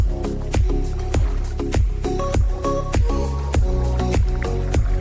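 People wade through deep river water in the Konkan countryside, each step a close, heavy splash and squelch repeating in a steady walking rhythm with no voices.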